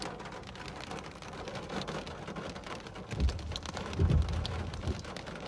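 Heavy rain and dime-size hail pour steadily while low thunder rumbles twice, swelling and fading beneath the constant patter of drops.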